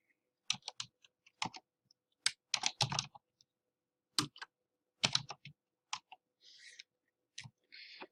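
Bursts of typing on a computer keyboard while writing code, irregular clusters of crisp close key clicks separated by short pauses, quiet overall with no talking.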